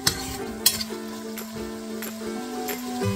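Ingredients for lugaw sautéing in a pot with a soft continuous sizzle, broken by several sharp clicks and scrapes of a utensil stirring against the pot, while steady tonal hum from the kitchen sits underneath.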